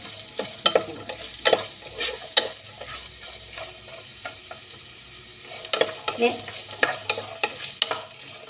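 Mustard seeds and onions sauté in a pan at the start of a hotel-style chicken curry, with a steady sizzle under repeated sharp clinks and scrapes of a spoon stirring against the pan.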